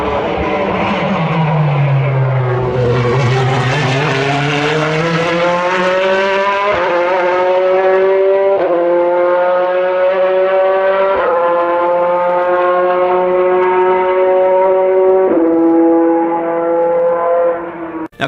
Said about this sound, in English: to me it really sounds like a flat plane crank V8.